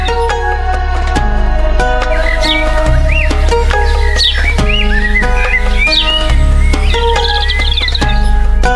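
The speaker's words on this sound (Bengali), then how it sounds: "পাখির কিচিরমিচির ধ্বনি আপনাকে" Birds chirp along a river on a boat trip near Bholaganj, Sylhet. Quick, rising tweets and trills come in bursts over continuous, loud background music.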